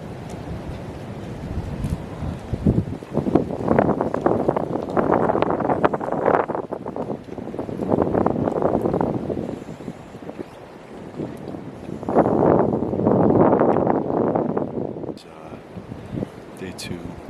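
Outdoors on an early-morning deer hunt, wind gusts buffet the microphone in a steady rough rumble that swells in several waves, with faint talk beneath it.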